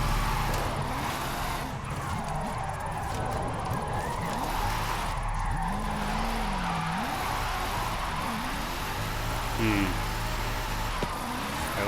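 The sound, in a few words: drift car engine in fourth gear in racing video game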